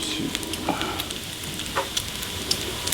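Bacon sizzles steadily in a pan on the stove, a close, constant crackle with small pops scattered throughout and no talking.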